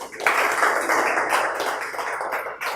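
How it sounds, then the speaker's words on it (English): An audience applauds steadily for nearly three seconds, a dense, even wash of many hands clapping together at close range, with no voices over it. "Can we have a round of applause for that?"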